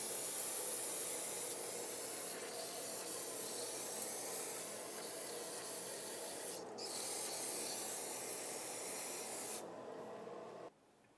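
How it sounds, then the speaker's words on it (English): Brake parts cleaner sprays steadily onto a rear wheel bearing hub assembly on a 2007-2017 Jeep Compass, a close, continuous hiss that briefly cuts out and then resumes before stopping at the end. "rinse it all off with brake parts cleaner"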